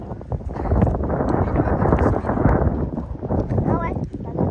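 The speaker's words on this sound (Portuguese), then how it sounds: "O vento tá muito forte, rapaziada." Strong wind gusts roar continuously into the microphone outdoors while people talk over it, a rough, buffeting rumble that never lets up.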